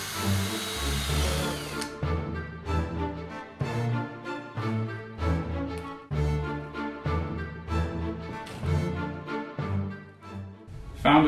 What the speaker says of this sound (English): Using a 5mm drill bit to make a hole connecting the two cells.